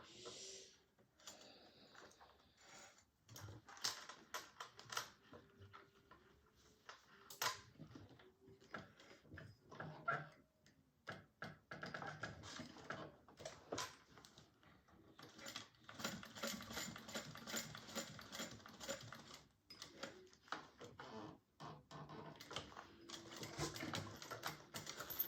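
A sewing machine topstitches a bag an eighth of an inch from the edge in short bursts, close rattling runs broken by pauses and fabric handling.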